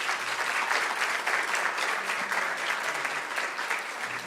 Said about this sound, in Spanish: Brindamos entonces un fuerte aplauso